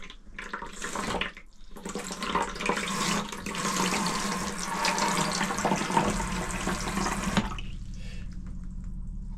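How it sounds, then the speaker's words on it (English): Water drains inside a motorhome with a steady rushing, gurgling flow close by, pausing briefly near the start and then running on before cutting off and leaving a low hum. "Could that be the water going down?"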